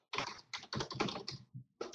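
Typing on a computer keyboard, short bursts of close, crisp key clicks in quick clusters separated by brief pauses, ending in a sharper tap.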